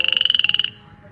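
A single frog croak made of a rapid train of about fifteen pulsing notes, loud and close, then cut off into quiet.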